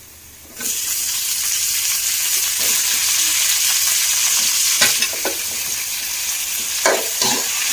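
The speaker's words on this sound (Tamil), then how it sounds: "கொஞ்சம் கல் உப்பு வெங்காயம் நல்லா வதங்கட்டும்" Onions browned golden with rock salt, then tomatoes, sautéing in a pan for a fish curry. A steady, fairly loud sizzle starts abruptly and runs throughout, with a few sharper stirring scrapes toward the end and no talking.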